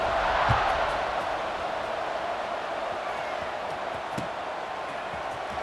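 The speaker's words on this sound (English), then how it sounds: "this crowd is buzzing" Continuous, dense murmur of a large football stadium crowd buzzing after a touchdown return, steady and distant, with a few faint thumps scattered through it.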